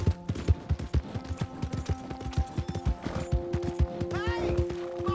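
Horse hooves clip-clop steadily in Red Dead Redemption 2, the Western open-world game, in a close, even walking rhythm with a faint whinny near the end and no voices heard.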